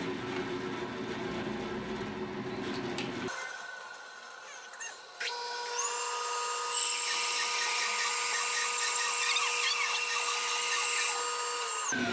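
A mini bandsaw sawmill drones steadily at close range, quarter sawing a log, its pitch shifting as the blade bites into the wood, running continuously throughout.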